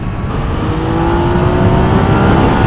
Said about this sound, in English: No, I'll overtake this Citroen in a minute.